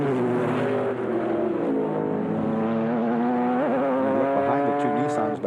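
IMSA GTP prototypes and GTS cars dice for fifth place at Watkins Glen in the Camel Continental Grand Prix, with loud, close engines screaming in rising and falling pitch as they shift and pass.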